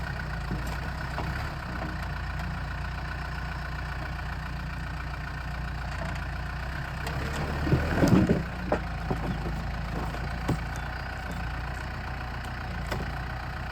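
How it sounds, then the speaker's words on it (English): Tractor engine idling steadily in a garden where a large wood pile is being moved, a continuous low rumble with a brief louder surge and a few knocks partway through. "coming with the tractor to help us move the big wood pile"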